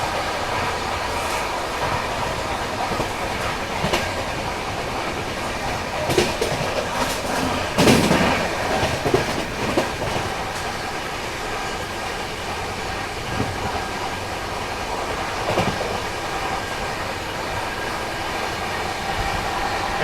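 Mangla Lakshadweep Express accelerating away from Narmadapuram station, a continuous loud rumble of carriages with rhythmic wheel clatter and occasional sharper knocks from the track, heard from on board without talk.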